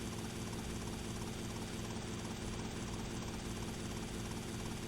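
Helicopter in Grand Theft Auto: Vice City, a constant close rotor and engine roar that holds steady throughout with no variation and no speech.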